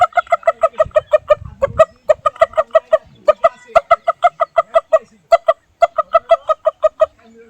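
A human voice imitates a mother hen calling her chicks to feed, a loud, close run of rapid rhythmic clucks in bursts with brief pauses, carried on for several seconds.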